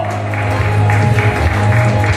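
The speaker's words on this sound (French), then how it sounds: "applaudissez les dames de l'église de la prophétie de Nouveau-Vie" Audience applause at a church celebration honouring a women's group, steady dense clapping throughout with strong low music or drone underneath, loud and close.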